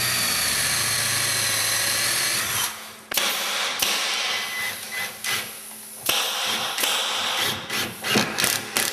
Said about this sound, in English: I'll just run it backwards to give me a little countersink.